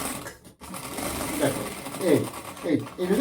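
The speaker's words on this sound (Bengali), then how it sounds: "এইভাবে আমি এইভাবে সেলাইটা দিয়ে দেবো দেখো এখানে যখন সেলাই করবে চেন" A sewing machine stitches a zipper onto a nonwoven fabric bag, running in steady mechanical bursts with a brief pause early on, close and fairly loud.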